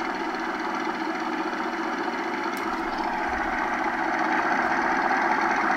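Off-road vehicle engine idling in a driving video game, a constant rough low rumble that holds steady and fairly loud throughout, with no talk.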